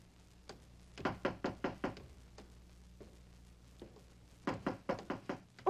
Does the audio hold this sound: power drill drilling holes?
no